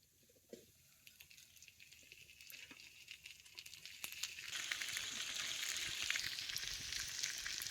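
Pomfret fish hits hot oil in a pan and a steady sizzle rises, growing louder and fuller as frying continues.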